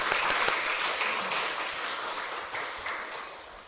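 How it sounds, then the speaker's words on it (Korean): A church congregation gives a short round of encouraging applause during a Sunday afternoon service, moderately distant and fading gradually over a few seconds. "다시 한번 우리 이렇게 박수로 격려해드리면 좋겠습니다"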